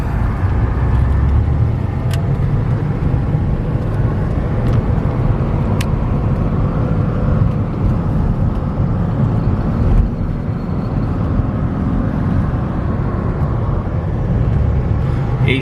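A 1990 Porsche 964 Carrera 4 drives along, heard from inside as a steady, loud low engine and road rumble with a few faint clicks from the cabin and no talking.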